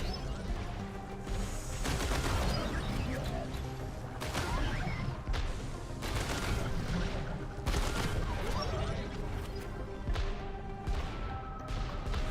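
Video game explosions in Voidling Bound go off as a dense run of booming bursts and crackling blasts, recurring every second or two over continuous loud game action.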